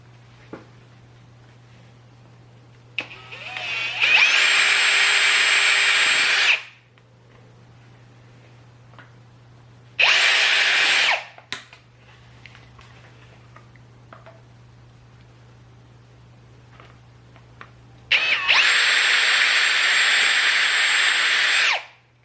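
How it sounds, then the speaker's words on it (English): A power drill with a 7/32 bit bores holes in a plastic T-Rex Racing motorcycle handguard for a Kawasaki Versys X300, three loud whining bursts separated by quiet pauses with faint clicks. "You've got to drill these holes out with a 7/32 bit"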